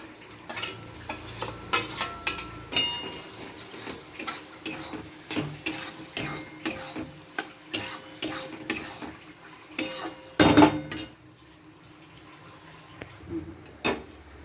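A spoon stirs eggs into cooked spice masala in a pan, irregular scraping and clinking strokes over a soft sizzle, with a pause before a few final taps.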